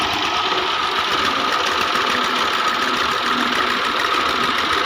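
A Ferguson tractor's engine labours steadily while hauling a loaded trolley, a loud, continuous, close-up mechanical drone with a rough, knocking texture and no breaks for the full stretch, with no voices over it.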